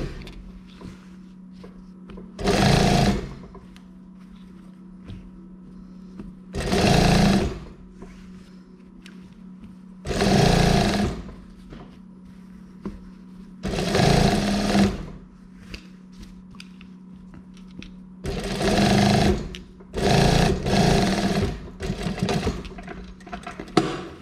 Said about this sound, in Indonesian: Tapi saya akan jahit saja ya, seperti ini.